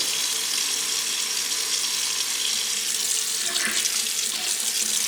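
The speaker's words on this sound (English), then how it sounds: "Then I'm going to run cold water over them." A cold tap runs steadily over turkey wings in a sink, a constant full rush of water that hardly varies from start to finish.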